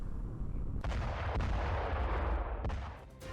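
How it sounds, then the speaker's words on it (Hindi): An explosion blast in the Ukraine war throws debris high into the air, with heavy booming concussions and sharp cracking reports over a sustained low roar, loud and continuous. "पहले धमाका होता है, आग लगती है और उसके बाद काफी दूर तक मलबे का गुबार देखने को मिला"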